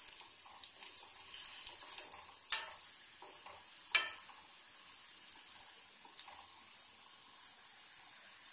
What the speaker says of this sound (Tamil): ஒரு கரண்டி வச்சு இந்த மாதிரி பிரட்டி விட்டுக்கோங்க